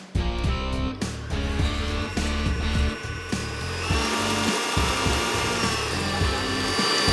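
Butter and sugar creamed for a carrot walnut cake, a loud continuous whirring mixer grinding steadily throughout, close and unbroken.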